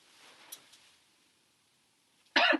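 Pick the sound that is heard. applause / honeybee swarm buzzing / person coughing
person coughing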